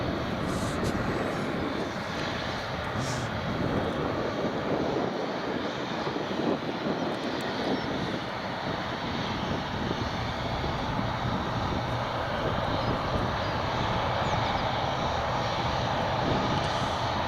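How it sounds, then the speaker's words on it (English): An Aer Lingus ATR 72-600 turboprop airliner at Edinburgh Airport drones steadily and loudly throughout, a continuous engine roar with a whining edge and no voices. "it's an Aer Lingus ATR 72-600."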